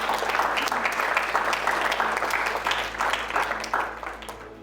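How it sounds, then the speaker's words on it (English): Applause from wedding guests at a reception speech, a steady dense clapping from a moderate crowd that holds for several seconds and then tapers off, fairly close and even. "so just a little round of applause for Paul, everyone."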